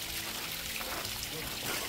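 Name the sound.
water dripping and trickling inside a cave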